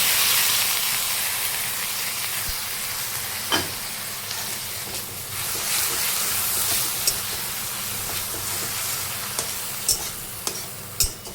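Ground ginger, garlic and green chili paste frying with browned onions in a pan for an egg curry, a loud steady sizzle and hiss throughout, with occasional sharp clanks of a spatula stirring against the pan.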